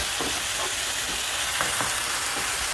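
Chili peppers and garlic stir-fry in a hot pan with a loud, dense, continuous sizzle and a few scraping stirs, close and steady throughout.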